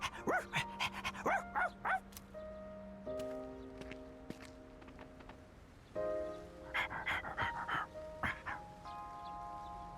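A dog in the Persona 3 Reload video game gives a burst of short yips and panting over sustained tonal game music, then a second burst of yips toward the end, moderately quiet.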